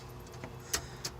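Car ignition key cycled on and off in a car fitted with a Pertronix 512 digital ignition: a faint jangle of keys with two short, sharp clicks close by, no voices.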